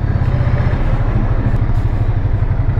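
A Ducati Scrambler motorcycle engine runs close and loud, a steady throbbing low rumble with rapid regular pulses over the whole short stretch.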